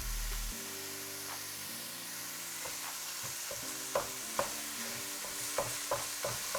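A pound of ground beef browns in a pan over medium-high heat with a low, soft sizzle. Several sharp scrapes and taps of a spoon break up the meat, and quiet background music runs underneath.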